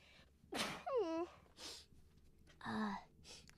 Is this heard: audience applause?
no